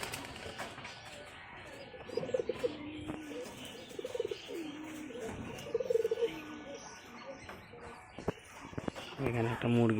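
A pet pigeon coos in several soft bursts amid background speech and household noise, with a brief louder stretch of bird sound near the end.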